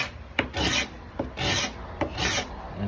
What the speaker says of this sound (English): I have a little cabinet scraper that has a curve